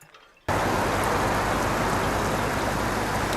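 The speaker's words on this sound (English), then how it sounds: "Definitely the rain has picked up." Heavy rain comes down suddenly and hard at a Southampton port, a dense, steady hiss that starts abruptly after a quiet moment and holds unbroken to the end.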